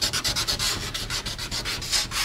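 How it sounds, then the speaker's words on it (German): A car's window frame, on a Golf under bodywork repair, is hand-sanded with quick, rhythmic back-and-forth rubbing strokes, close and steady with no talking. "Ronny schleift am Scheibenrahmen"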